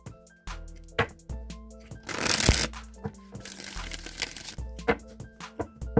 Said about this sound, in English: I just want to shuffle the Rider-Waite deck for you guys